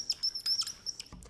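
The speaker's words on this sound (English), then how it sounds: "Here's a bird, high in the sky," Small bird chirping in a quick series of high, thin tweets, fairly faint and close, with short pauses between calls and no voices.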